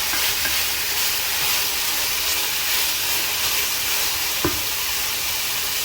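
Minced garlic being stirred into softened, translucent vegetables in a hot pan, a steady bright sizzle with a few soft scraping stirs and a brief clunk near the end.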